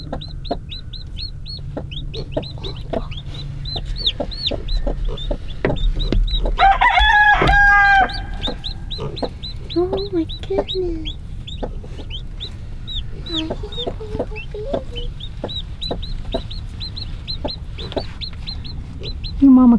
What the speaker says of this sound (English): She's clucking for babies.